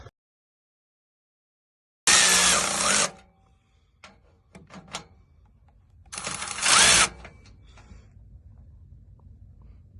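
A Milwaukee ratchet spins in two loud bursts of buzzing, rasping mechanical noise, each about a second long, with quieter clicks and handling sounds between them while work is done on a truck.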